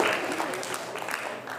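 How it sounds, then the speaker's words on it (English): Audience applause at an awareness talk about Sikhism, a continuous dense patter of clapping hands at moderate volume, with faint voices underneath. "Round of applause."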